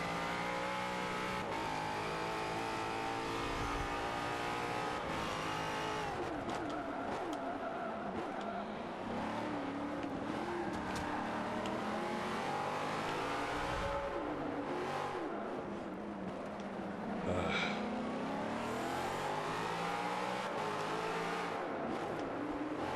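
V8 Supercars at a Long Beach race start in a racing video game: engines rev hard and accelerate continuously, pitch climbing and dropping through gear changes, with several cars close and loud.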